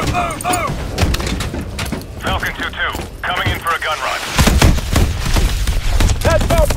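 Tank cannon fire in a Call of Duty: Advanced Warfare battle: a dense run of heavy, booming shots and thuds, with shouted voices talking over the din throughout.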